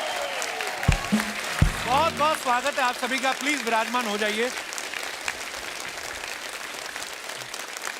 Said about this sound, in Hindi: इन चारों नौजवान सिंगर्स के लिए जोरदार तालियां हो जाए।